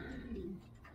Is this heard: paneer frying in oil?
no